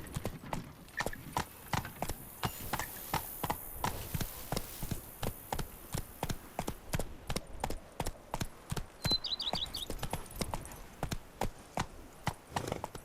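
Roach the horse galloping in The Witcher 3, hooves pounding in a fast, even rhythm, close and loud, with a brief whinny partway through and no talk over it.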